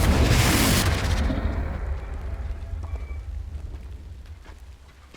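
A Confringo fire spell bursts in Hogwarts Legacy, a loud broadband blast that dominates the first second, then a long rumbling tail fading over several seconds.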